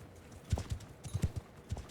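Horse hooves clip-clopping in the Mount & Blade II Bannerlord video game, a quick series of faint, close rhythmic thuds over about two seconds, heard without talk.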